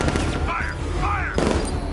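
Batmobile cannons firing in a Batman video game, a dense burst of rapid shots running the full length, loud and close, with a shouted voice and game effects mixed over the barrage.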